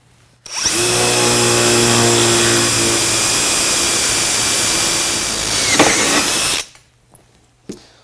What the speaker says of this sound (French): je vais pouvoir faire un perçage dans l'acier